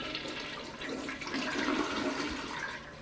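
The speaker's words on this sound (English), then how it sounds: "The water is running again at Genesis Christian Mission on Hiawatha Street." A tap gushes water again at a mission building after service was restored, a close, continuous rushing flow that grows slightly louder midway.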